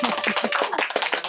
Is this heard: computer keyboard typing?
no